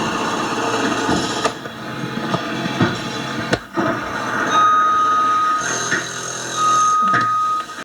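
Construction site noise recorded during a phone call through Soundpeats Capsule3 Pro+ earbuds, with loud clanks, bangs and a grinding, whining machine tone running steadily throughout.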